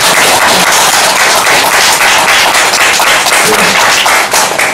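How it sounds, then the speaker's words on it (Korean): Sustained, loud audience applause for an election candidate at a candidates' forum, a dense, steady wash of clapping that fills the whole stretch without a break. "여러분 따뜻한 정리의 박수 부탁드립니다"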